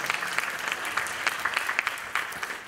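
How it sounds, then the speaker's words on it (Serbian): An audience at a French-language song competition in Niš applauding a performer, dense continuous clapping from a crowd in a hall, somewhat distant and steady for the whole stretch. "Molim aplauz za mog kolegu i njegov trud"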